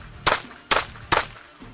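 Three sharp, loud gunshots from a shooting video play back in quick succession, each a crisp crack with a short tail.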